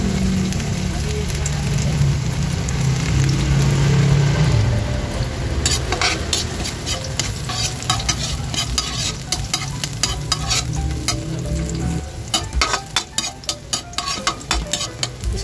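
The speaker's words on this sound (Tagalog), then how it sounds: "kaya ilalagay na natin yung ating bawang" Garlic drops into hot oil for ginisang monggo, setting off a loud, steady sizzle, followed by busy stirring and scraping clatter that grows choppier toward the end.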